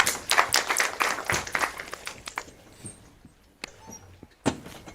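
An audience at a transformation summit claps for a university deputy vice chancellor of resources and operations. Dense, fairly loud clapping fills the first two seconds, then thins to scattered claps and a final lone clap.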